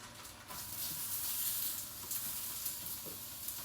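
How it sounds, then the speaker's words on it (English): Eggplant and okra sizzle steadily in a hot pan, a soft crackling hiss with occasional sharper pops, close and fairly quiet. "You can hear them sizzling"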